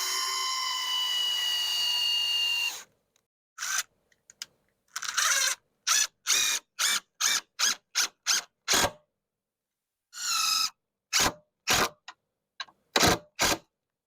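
A power drill bores pilot holes into wood near the edge of a backyard playhouse fence board before GRK fasteners go in: one longer whirring run, then a series of short, sharp bursts separated by silence.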